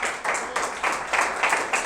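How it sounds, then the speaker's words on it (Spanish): A church congregation claps together in a steady rhythmic beat, roughly three sharp claps per second, moderately loud and close, with no voices over it. "dale un aplauso a Dios"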